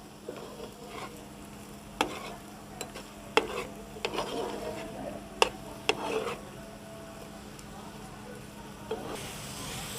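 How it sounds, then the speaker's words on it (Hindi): A marinade with white vinegar is mixed in a bowl: soft wet stirring with a string of sharp spoon clicks and taps against the side, quiet and close, with no talk. "और ये वाइट विनीगर 1 स्पून। इसको अच्छी तरह मिक्स करेंगे।"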